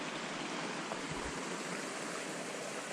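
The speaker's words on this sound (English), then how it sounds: "This is a nice spot right here, waterfall in a really low point" A small waterfall at a low point in Bryce Canyon, among hoodoos and trees, gives off a soft, steady rush of falling water heard from a short distance, faint and continuous.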